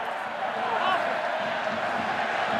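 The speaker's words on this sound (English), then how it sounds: "you can hear the home crowd here in the Stade Jean Daugé" Home crowd at Stade Jean Daugé roars steadily through a Bayonne versus Perpignan Top 14 rugby match, a dense, loud, continuous wash of cheering and shouting with no break.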